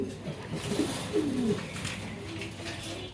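Fancy pigeons coo in short low warbling phrases, a few calls close by over a steady hum of background noise.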